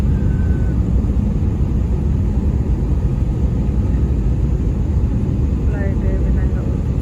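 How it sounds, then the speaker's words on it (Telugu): Cabin noise inside an airliner flying from Philadelphia to Austin in bad weather: a loud, steady, low engine and air roar that runs without a break. "ఫ్లైట్ ఏ విధంగా ఉంటుందో చూడండి."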